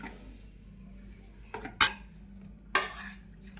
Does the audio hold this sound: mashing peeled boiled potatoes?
yes